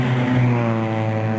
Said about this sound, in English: And it's called motorcycle passing